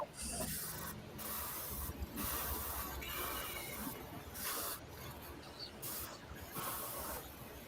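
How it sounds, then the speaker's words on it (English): An airbrush spraying paint in bursts, a close, loud steady hiss starting and stopping several times with short pauses between sprays. "you can just clear out your airbrush real quick because now we're going to go with flesh tone"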